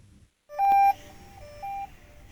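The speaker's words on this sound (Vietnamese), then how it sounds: "Thì đây là tiếng khởi động của con máy bay nha mọi người." A DJI T50 agricultural drone gives its startup tones: a short click, then a clear sustained beep followed by two softer, shorter beeps, close and otherwise quiet.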